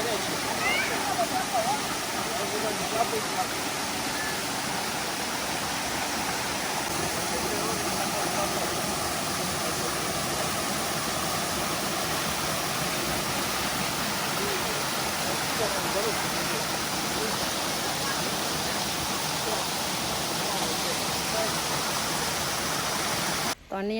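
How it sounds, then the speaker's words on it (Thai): A waterfall at the Khlong Thom hot springs in Krabi, Thailand, roars as a steady broadband rush of falling water. It is loud and continuous, with faint voices in the background. "น้ำตก"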